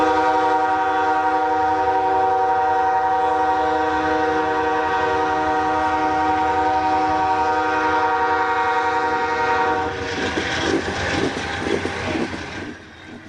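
A train horn blares in a long sustained chord, then fades into the clatter and rumble of railcars rolling along the track.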